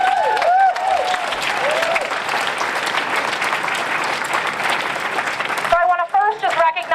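A rally crowd cheering for marriage equality breaks into loud, sustained applause with whoops and whistles, close and dense throughout, fading into scattered claps near the end.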